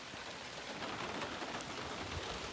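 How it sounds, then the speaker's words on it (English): Rain patters steadily and densely on a vehicle's hood and windshield at a farm, a constant close hiss of many drops with no voices. "We're getting some rain, but it's not coming down terrible."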